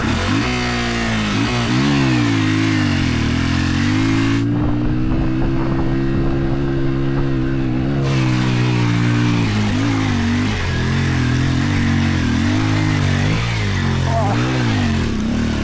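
A trail motorcycle engine with a clutch problem and intermittent power loss revs loudly and unevenly, rising and falling in pitch, with a brief steadier roar in the middle.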